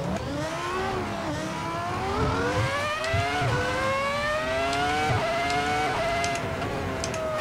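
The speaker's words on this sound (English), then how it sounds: "it sounds like it's got a Ferrari V10 engine from one of the Kunos Ferrari cars" Super GP race car with a Ferrari V10 engine in the Assetto Corsa racing game, a high-pitched whining engine revving up repeatedly through gears, rising and dropping pitch with each shift, loud and alone.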